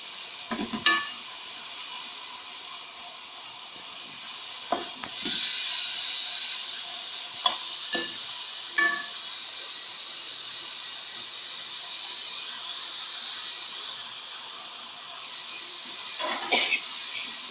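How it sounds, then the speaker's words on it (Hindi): Onions frying gently in a pan for a Shinwari-style khara masala qeema, a soft steady sizzle and hiss with occasional stirring scrapes and clinks throughout, no voices. "प्याज को आपको इतना भूनना है तो बस वो वाइट जो है वो नरम हो जाए"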